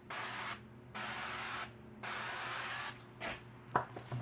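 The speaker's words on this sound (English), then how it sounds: "you just spray it on there" An aerosol can of cooking spray hisses in three long sprays with short pauses, followed by a shorter burst and a light clatter, close by.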